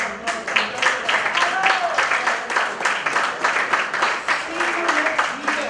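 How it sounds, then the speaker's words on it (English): Attendees at a men's health summit at Whittier Street Health Center applaud, a moderate run of clapping with rhythmic pulses, while voices call out and talk over it. "So give yourself a wonderful applause."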